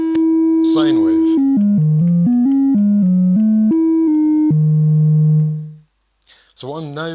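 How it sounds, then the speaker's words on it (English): A Micromac synthesizer oscillator switched to a sine waveform plays a clean, pure melodic line of held notes stepping up and down, loud and alone, ending on a sustained low note that fades out, with a brief voice at the end. "Sine wave."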